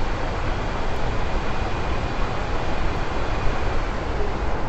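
A train runs through an undersea tunnel beneath the South China Sea, giving a steady, loud broadband roar of rumbling wheels and rushing air that holds evenly throughout with no talk.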